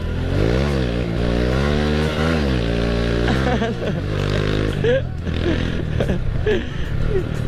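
Honda Astrea Grand motorcycle fitted with a Karisma carburetor, its engine droning steadily close by while riding, with pitch rising and falling through gear changes and some scraping and clatter.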